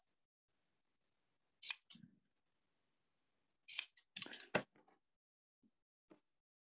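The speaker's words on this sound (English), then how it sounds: "So like if I went in here and just like cut in between those" Scissors snip slits into a T-shirt, heard as a few short, crisp cuts in small clusters, close but quiet, with near silence between them and no talking.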